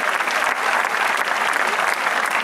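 Concert audience applauding after an orchestra performance at a city music festival, with a pianist and conductor on stage; dense, steady clapping fills the whole stretch at high volume with no pauses.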